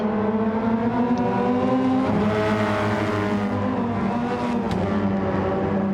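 Hyundai Elantra race cars in a sim racing replay, engines droning steadily and loud with layered harmonic tones, one car close behind another, with no speech.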